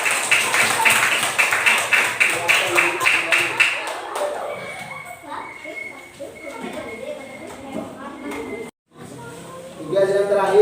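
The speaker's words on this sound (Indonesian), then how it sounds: "Ya, tepuk tangan." Children in a primary school classroom clap their hands in a fast, loud rhythmic burst lasting several seconds, then it stops and the room fills with chatter and voices.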